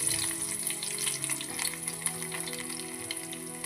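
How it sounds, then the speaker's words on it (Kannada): Mustard seeds and cumin sizzle and crackle in hot oil in a pan, a close, continuous frying hiss with scattered pops and a stirring sound, with no talk. "ಈಗ ಎಣ್ಣೆ ಕಾದತ್ರಿ, ಸಾಸಿವೆ ಜೀರಿಗೆ ಹಾಕ್ತಾನೆ."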